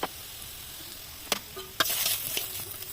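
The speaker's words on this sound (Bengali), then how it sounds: "আলুটাকে ভাজলাম, বাঁধাকপিটাকে ঢেলে নিলাম।" Potato and cabbage frying in a pan for chow mein, with a low steady sizzle broken by a few sharp spatula knocks and a burst of louder hissing as food is tipped in, close by.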